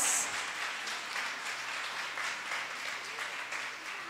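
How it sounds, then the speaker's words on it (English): An audience at a kindergarten graduation ceremony applauds after a song, a dense, steady wash of many hands clapping at moderate volume that carries on without a break and is heard on its own. "Give them a big round of applause"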